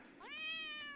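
A single cat meow from a catfish in the VR game Crazy Fishing VR, a clear rising then sustained tonal call, close and fairly quiet, alone.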